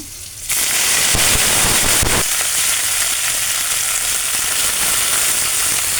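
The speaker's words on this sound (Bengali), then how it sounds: "আজকে ইলিশ মাছগুলো ভাজা খাওয়া হবে, ভেজে নিচ্ছি।" Loud, continuous sizzling and spattering of hilsa fish frying in hot mustard oil, with a sharp crackle near the start and then a steady hiss.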